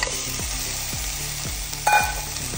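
Crabs with onion and tomato masala frying in a pan, a steady sizzle with repeated stirring scrapes at a near, moderate level, no voices.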